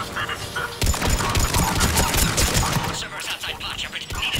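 Dense gunfire rattles and crashes without pause during a heavy attack in Mass Effect 3, with loud bursts and impacts piled over one another. A voice speaks partway through the clip.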